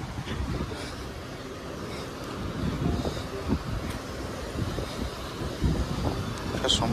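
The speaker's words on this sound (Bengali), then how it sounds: "সমুদ্র কিন্তু বেশ উত্তাল।" Rough sea at Puri beach in the morning gives a steady rush of surf with strong wind buffeting the microphone, loud and continuous, and faint voices come through in the background.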